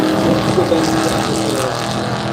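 Drag racing cars launch off the line with a loud, continuous, close engine roar that holds steady for a couple of seconds.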